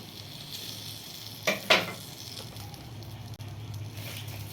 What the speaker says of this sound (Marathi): हे तेल आता आपण पिठावर टाकून घेऊ